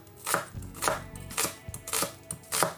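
Onions being chopped on a cutting board, a quick run of about eight sharp knife strikes in an uneven rhythm, close and clear.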